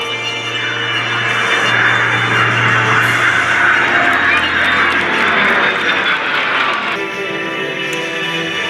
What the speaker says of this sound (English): F22 Raptor